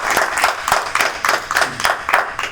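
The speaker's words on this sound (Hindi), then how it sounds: "एक बार जोरदार तालियां।" An audience at an Independence Day poetry gathering claps for a poet, loud rhythmic applause in steady bursts with a faint voice underneath.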